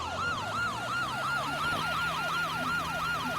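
A police car siren in the Roblox game Barry's Prison wails in a fast, steady up-and-down cycle for the whole stretch. It is loud and close, over a low engine hum, and no one speaks.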